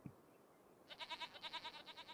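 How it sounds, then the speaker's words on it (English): A baby goat in Farming Simulator 25 bleats in a quick run of about ten wavering pulses, bright and fairly close, after a short quiet lead-in. "Listen to the baby goat."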